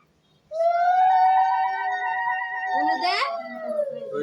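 A woman's ululation at a ritual rises suddenly into a long, loud, high sustained tone that breaks into a wavering trill near the end, close and clear.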